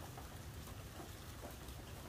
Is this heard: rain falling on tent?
yes